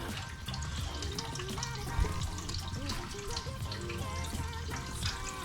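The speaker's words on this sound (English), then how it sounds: "I'm gonna start filling the boat up with water to see if there's any leaks" Water runs steadily into the hull of a 1985 Stacer 3.4 m aluminium boat under restoration, filling it to find leaks: a continuous, fairly loud splashing and gurgling flow with no talk.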